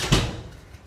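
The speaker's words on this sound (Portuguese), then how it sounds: "fecharam a porta na minha cara" Door shut during a metal band's tour stop in Vitória, Brazil, a single short thud heard near and fairly loud, then fading quickly.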